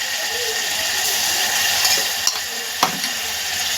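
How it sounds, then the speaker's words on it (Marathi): Ground masala paste fries in oil in a pan for Hyderabadi vajadi gravy, giving a steady close sizzling hiss broken by two sharp clicks of a spoon against the pan. "आपण डायरेक्ट हे वाटणच तेलामध्ये फ्राय करून घेणार आहे पाच मिनटं पूर्ण व्यवस्थित वाटण तेलामध्ये आपण परतून घ्यायचं"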